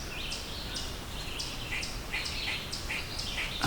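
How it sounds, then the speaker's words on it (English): Repeated high, rasping chirps of a gray squirrel scolding from nearby trees in Clear Creek State Park, Pennsylvania, in a steady rhythm over a constant hiss. "That's a squirrel scolding me."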